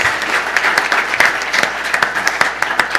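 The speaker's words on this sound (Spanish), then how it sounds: "un aplauso, Manuel, por favor" A conference audience at a corporate governance event applauds a speaker named Manuel, thick continuous clapping with sharp individual claps popping out near and loud against the crowd wash, no talking.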